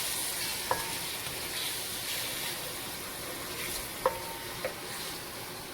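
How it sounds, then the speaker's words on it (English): Chopped habanero pepper and vegetables being stirred in a hot pan, a steady sizzle and hiss with a few faint spoon scrapes and clinks against the pan. "Just stir that all up."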